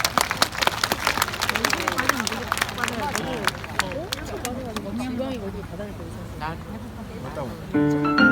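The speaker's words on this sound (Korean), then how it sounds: "큰 박수 한번 부탁드리겠습니다" An outdoor community-day crowd at Gyeyang stadium claps in sharp, scattered bursts for a women's choir performance, the applause thinning out amid crowd chatter and voices before music begins.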